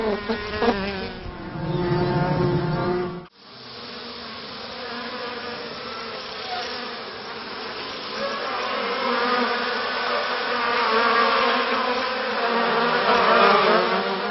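Honeybees buzzing in a dense, continuous drone, loud and close, a swarm-like hum that briefly cuts out before resuming steadily.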